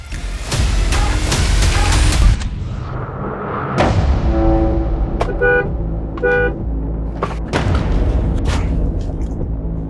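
Traffic rumbles nearby while a car horn gives several short toots in quick succession at a car stopped in the middle of the road, followed by a few more scattered honks over engine noise.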